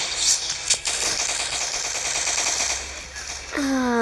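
Rapid automatic gunfire in a video game as the player shoots at insects, with dense repeated shots close up, then an electronic rising tone near the end.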